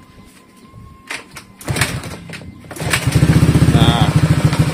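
Several clunking kicks, then a bored-up Honda Beat or Scoopy scooter engine catches and runs with a fast, pulsing idle. A voice says a word early on.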